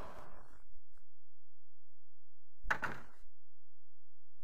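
A locked door being tried in the video game Tex Murphy: Overseer gives a short burst of rattling and thudding, followed by a quiet pause, then a second louder rattle of the handle and frame. No one speaks.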